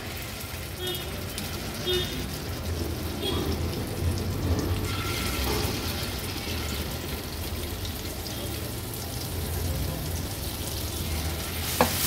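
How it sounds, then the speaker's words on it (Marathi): Spice masala frying in hot oil over a medium gas flame for an Afghan egg masala, a dense continuous sizzle that carries on throughout with occasional stirring and a faint voice beneath. "आता गॅसची फ्लेम मीडियम वर ठेवते आणि हा मसाला आहे तो ऍड करूया तेलावर"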